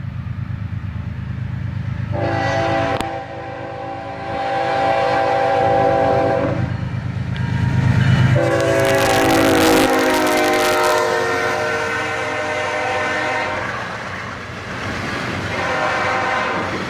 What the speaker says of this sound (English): Another auto-rack train, led by an ES44 ACH and an sd43 square cab rebuild.